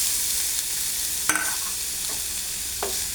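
Grated carrot sautés in ghee, a soft continuous sizzle broken by a few scraping stirs and clinks of a spoon against the pan.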